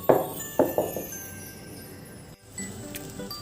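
A few sharp taps on a metal steamer dish holding dhokla batter, two close together then a quicker pair, each ringing briefly before quiet background hiss.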